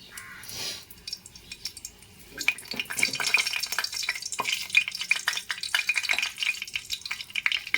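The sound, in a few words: cloves, cinnamon and bay leaf sizzling in hot oil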